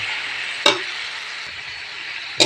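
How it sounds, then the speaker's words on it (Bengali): Potatoes frying with fried chili and onion sizzle in a steady, close hiss as they are stirred, broken by two sharp clanks of the utensil against the pan. "এখন এগুলো একটু নাড়া দেবো পরিমাণ মতন।"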